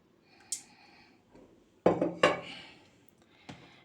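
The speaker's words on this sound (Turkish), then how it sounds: "Ve bir güzel karıştırıyoruz." A yogurt, egg, salt and oil sauce being stirred in a bowl gives a few separate clinks and scrapes of utensil against dish, with two louder knocks in the middle and a faint tap near the end.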